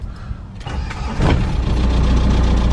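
A swapped diesel engine in a Mk2 Jetta TDI cranks and catches, settling into a loud, close, rough idle with a deep low rumble that holds steady to the end.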